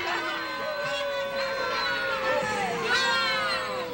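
A rowdy crowd in a Wayne & Shuster comedy sketch, a continuous loud din of overlapping shouts, jeers and yelling voices with no pause throughout.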